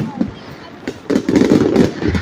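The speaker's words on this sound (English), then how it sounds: "There's like so many fireworks." Fireworks bursting at a Christmas fireworks show, several loud booms and crackling pops in quick succession, close and dense toward the end, with crowd chatter underneath.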